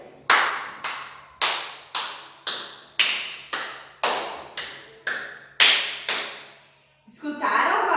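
A single adult claps her hands for nursery children, about a dozen sharp, evenly spaced claps with a slight reverberant room tail, followed by a brief stretch of soft speaking at the end.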